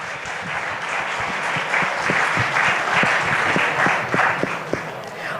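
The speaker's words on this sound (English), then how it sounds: "A big applause for the performers." Sustained applause from a live audience at a Founder's Day variety entertainment show, a steady dense wash of clapping with sharper individual claps standing out, loud and continuous throughout.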